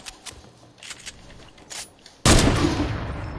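A loud single sniper shot in a sniper-only video game mode, an abrupt heavy blast at the midpoint whose roar sustains to the end, after a few faint scattered pops.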